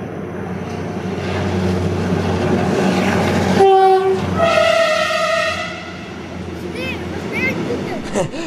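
A high-speed train rushes past at speed near the former Barendrecht station, with a roaring rumble, and its horn blares loudly midway before the clatter of wheels fades.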